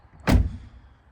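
A Porsche Cayenne door, recently adjusted after dropping, swings shut with a single solid close-up thud that fades into a short low resonance, with no voices around it.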